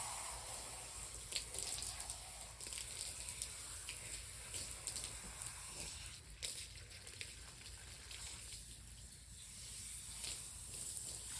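Running water hisses steadily as conditioner is rinsed from a draft horse's tail, a faint continuous splash and spray with small fluctuations and no talking.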